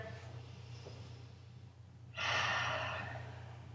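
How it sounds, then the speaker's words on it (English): A deep breath held in a yoga pose: quiet, steady breathing, then one strong, audible exhale that trails off slowly. "We're going to take 3 deep breaths here."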